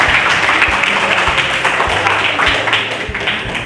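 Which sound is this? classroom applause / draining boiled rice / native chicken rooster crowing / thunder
classroom applause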